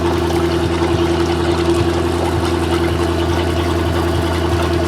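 A Mercruiser Alpha One Gen I boat engine idles steadily while circulating water through its cooling system, giving a continuous close engine hum with a faint rhythmic pulse and watery wash throughout.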